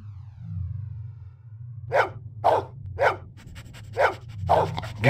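A dog in the video game Blade Runner barks five or six times in quick succession, loud and close, after a low steady hum fills the opening seconds.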